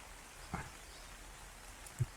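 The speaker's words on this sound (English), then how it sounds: "It's raining, which kind of sucks." Rain falls steadily in the video game Ark Survival Evolved, a faint, even hiss of patter with a couple of soft knocks over it.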